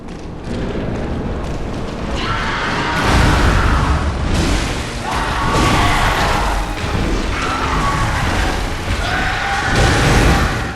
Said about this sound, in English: she's chucking Molotovs at him